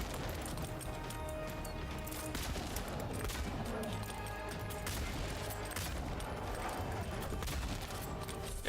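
Gunfire from a rare gun in a video game, a dense, continuous stream of shots and impacts mixed with game effects and background music throughout.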